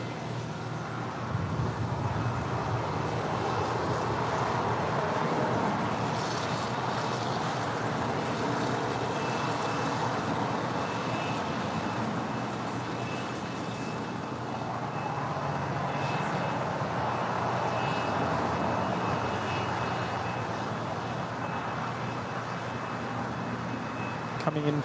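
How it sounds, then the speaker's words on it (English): An Embraer Legacy 500 business jet passes at an airport as a steady, broad roar of jet engine noise that holds at a moderate level throughout, mixed with some wind. "That is an Embraer Legacy 500."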